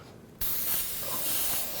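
An airbrush sprays paint onto a biomechanical skull, starting abruptly after a brief quiet moment and then holding a steady, close, airy hiss for the rest of the clip.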